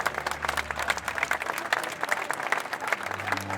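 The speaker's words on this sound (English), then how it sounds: "Applause swelling like a symphony." Steady applause from a crowd at a debutante ball in a ballroom in The Sims 4, many hands clapping together at an even level, with a low background hum underneath.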